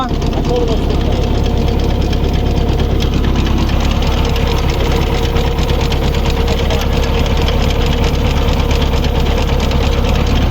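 An engine-driven crop sprayer runs steadily with a loud, continuous rattling drone and hiss of spraying; people talk over it.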